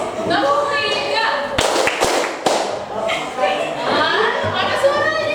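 A class of students claps out a quick rhythmic pattern, four sharp claps in close succession near the middle, with a teacher's voice talking before and after.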